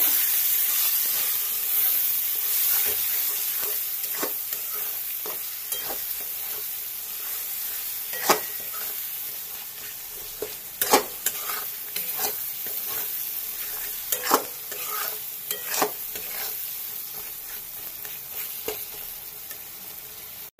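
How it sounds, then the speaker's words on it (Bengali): Curry spice paste for crab curry, with ground cumin in it, sizzles steadily in hot oil while a utensil scrapes and stirs it in sharp, irregular strokes, close and alone for about twenty seconds. "এগুলোকে এবার খুব ভালো করে মিক্স করব।"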